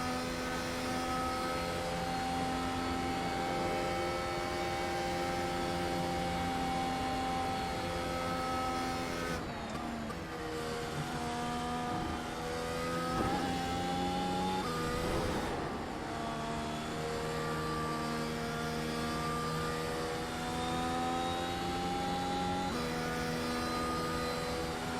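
A high-revving Mercedes W12 open-wheel race car engine in the iRacing simulator drones steadily and loudly, its pitch shifting up and down through gear changes with a brief dip in the middle, no voices over it.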